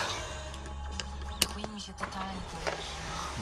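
Electric sunroof of an Audi A8 sliding open, a low steady motor whir running through the cabin with a few small clicks and knocks along the way, quiet and close, while someone talks.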